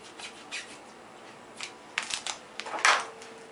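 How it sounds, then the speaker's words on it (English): Scissors cut through bicycle handlebar tape at an angle, giving a few short, crisp snips and rustles close by, quiet and sparse, with no talking. "When you are done with the tape, rather than just cutting it off square, cut it off at an angle."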